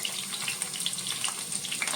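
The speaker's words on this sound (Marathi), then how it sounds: "तेलावरती ही मी भेंडी फ्राय करून घेत आहे." Okra sizzles steadily in hot oil, a dense crackling hiss dotted with small sharp pops, heard up close with no talking.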